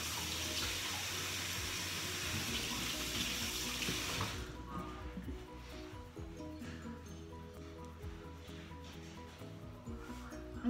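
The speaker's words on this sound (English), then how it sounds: "let me wash my hands." Tap water runs strongly over hands at a sink in a home kitchen during a cooking show, a loud broadband rush that cuts off partway, leaving quieter drips, splashes and rubbing.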